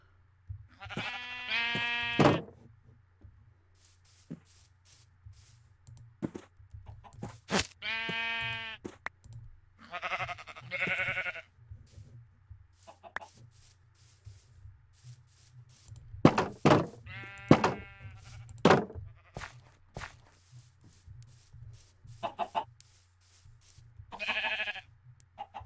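Sheep in the Minecraft video game bleat repeatedly in short separate calls spread across the stretch, loud and close against a quiet background, with faint clicks between them.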